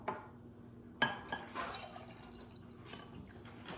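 Glue being stirred into water in a jar, heard as close glassy clinks and small liquid sloshes, with one sharp knock near the start and scattered light taps after.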